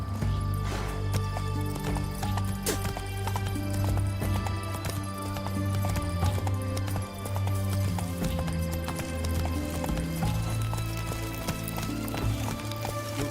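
Hoofbeats of a horse galloping in The Witcher 3 drum steadily throughout, close and loud over a dense bed of game music and ambience, with a brief whinny near the start.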